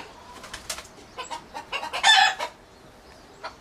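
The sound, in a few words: hen clucking to announce a freshly laid egg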